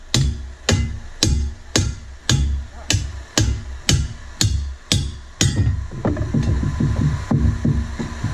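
Heavy hammer blows strike a stuck Leslie bell in a steady rhythm, about a dozen loud clanging metal hits, then faster, lighter ringing taps toward the end.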